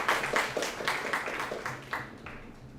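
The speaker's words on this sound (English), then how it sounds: "can I have a round of applause for" An audience gives a round of applause at an oration, with a modest scatter of claps that is fairly faint and slowly thins out over a few seconds.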